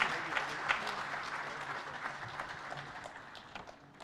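Audience applause at the Kenya Water & Sanitation International Conference 2023 as a dignitary takes the stage, a sustained far-off wash of clapping that slowly fades across the seconds.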